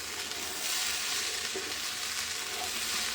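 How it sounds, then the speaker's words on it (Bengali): Turmeric and cumin frying in a pan for vegetable khichdi, a steady close sizzle with a faint stir, no talking. "এবার মশলাগুলোকে সুন্দর করে ভালো করে ভেজে নেব"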